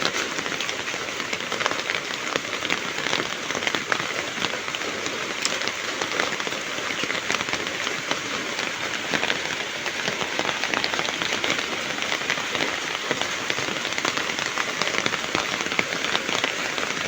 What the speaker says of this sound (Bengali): বৃষ্টির শব্দগুলো আপনাদের কাছে কেমন লাগে তাও জানাবেন